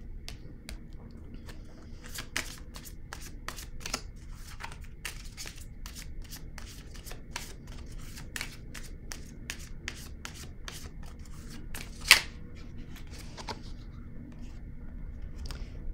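Tarot cards are shuffled and rubbed by hand at close range, a run of soft repeated swishes and brushing strokes with an occasional sharper snap.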